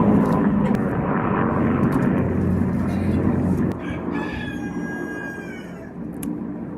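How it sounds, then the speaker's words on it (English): A helicopter drones loudly overhead, rumbling steadily before easing off; a rooster crows in the background as voices speak nearby. "Helicopter."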